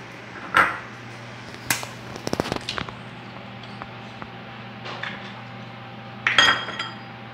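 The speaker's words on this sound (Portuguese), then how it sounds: "Aqui eu vou botar quatro ovos." Eggs, four of them, go into an avocado cake batter with a few sharp clinks and taps of shell against a bowl, spaced out over several seconds in a quiet kitchen with a low steady hum behind.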